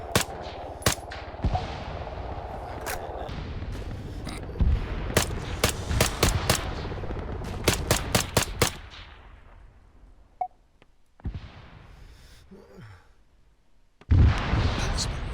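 Rifle gunfire in ARMA 3, including an M14 DMR, cracks out as loud sharp shots over a steady background rumble, some in quick bursts and others spaced apart, then thins to a few distant pops before a final loud blast.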